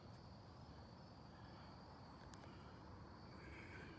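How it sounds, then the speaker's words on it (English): Crickets chirping at sunset on a wooded Maryland ridge at Annapolis Rocks, a faint steady high trill that holds throughout over soft broadband outdoor hiss, distant and quiet with no voices. "The crickets are already out."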